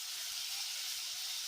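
Chopped onion and spices fry in a pan for a Bengali prawn malai curry, a faint, even sizzle hissing steadily throughout with no talking.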